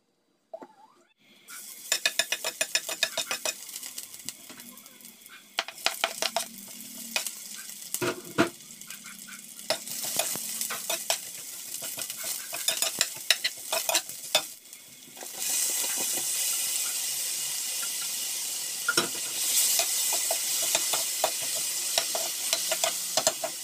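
Food fried and stirred in a home kitchen pan: steady sizzling with frequent scraping and clinking of a utensil against the pan, growing louder and denser partway through, with no talking.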